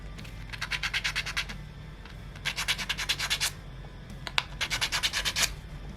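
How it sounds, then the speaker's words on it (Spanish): Rhythmic sanding of a wooden 3D puzzle piece, three bursts of quick back-and-forth rubbing strokes with short pauses between, close up over a steady low background hum. "Podemos lijar un poco"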